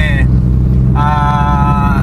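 Inside a Toyota Corolla cruising along, a steady low engine and road drone fills the cabin, with high tonal whines cutting in and out over it.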